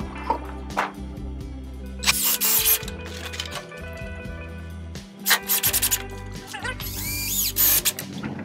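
A power driver whirs in short bursts, revving and stopping several times as 2.5 inch wood screws are run into a board, with clicks and handling noise between.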